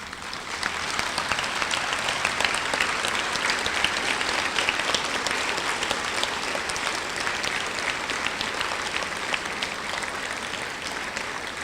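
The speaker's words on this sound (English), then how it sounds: "give them a round of applause of thank you" A high school graduation audience gives a sustained round of applause, dense steady clapping from a large crowd filling the hall evenly throughout without talk.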